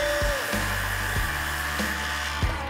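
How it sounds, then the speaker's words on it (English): Belt sander running steadily in a workshop while a cleaning stick is pressed against the moving belt to clear sawdust, a continuous motor whine broken by several brief scraping dips. "You run this back and forth across your belt as it runs, and it cleans off all this excess sawdust and extends the life."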